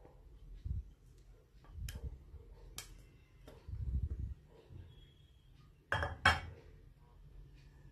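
Spoon spreading a hot topping over a coconut cake in a pan, soft scraping strokes punctuated by a few sharp metallic clinks and taps against the pan, close and quiet with no talk.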